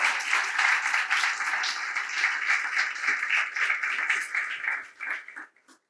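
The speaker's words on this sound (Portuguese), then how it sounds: "Então dê um aplauso bem forte ao Senhor" A church congregation gives a loud, sustained round of applause for several seconds, dense and close, which thins out and stops near the end.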